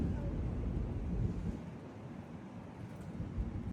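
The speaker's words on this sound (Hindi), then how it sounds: "ठंडी हवा चल रही" Cold wind blowing outdoors beside a swaying tree, heard as a steady low rumble and buffeting roar across the microphone, fairly loud and continuous with slight gusts throughout.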